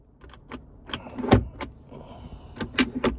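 A Lexus LC500 car door swings and closes softly with a muted thump, surrounded by light clicks and rustling of the latch and interior, close by.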